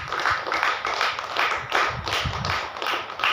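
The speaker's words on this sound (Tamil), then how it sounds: "கைதட்டுகளை பார்ப்போம்." A church congregation claps together in a steady rhythmic beat, the repeated claps fairly loud and close, with no voices over them.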